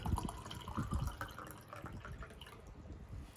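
Plain water poured into a cup for a kids' science experiment: soft gurgling and dribbling splashes near at hand, quiet, fading to a faint trickle, with no talk.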